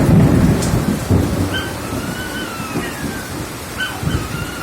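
Heavy rain falls steadily in a storm while low, rumbling thunder bursts roll in at the start and again near the end. Thin high whining tones drift faintly above the downpour.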